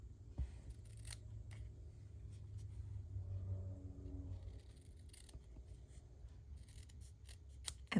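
Scissors cutting paper for a craft project, making specimen-slide style embellishments: a few brief crisp snips heard close and faint over a low room rumble, with no talking.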